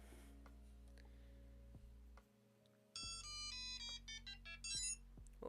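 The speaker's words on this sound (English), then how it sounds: "Oh, that was my phone." A mobile phone ringtone rings out in a quiet room during fursuit head sewing, a bright melodic tone pattern that starts partway through and repeats in quick bursts over a steady low hum.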